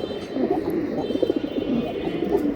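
Silver Giribaz pigeons coo in a low, continuous murmur, soft repeated coos layered over faint background noise with no clear gaps.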